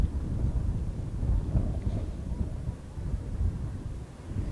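Cold wind gusts on a foggy day in southern Alberta, a steady low buffeting rumble across the microphone with no voices.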